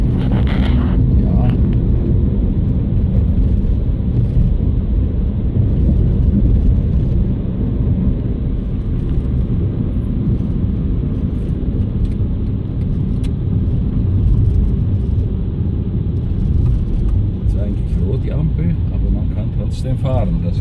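Car driving through road traffic in Thailand near the Cambodian border, a steady loud engine and road rumble heard from inside the vehicle, continuous throughout.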